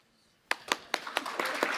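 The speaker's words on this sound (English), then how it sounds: "Stop all this clapping. We've been clapping all day." An audience claps at a political party conference, the applause starting abruptly after a short silence and building into steady, dense clapping with sharp individual claps standing out near the front.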